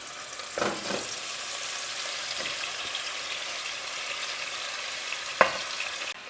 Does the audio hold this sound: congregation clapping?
no